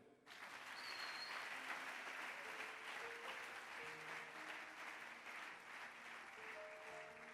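A church congregation applauds and acclaims the Lord in continuous, dense clapping that holds steady for several seconds, with faint sustained voices and tones beneath.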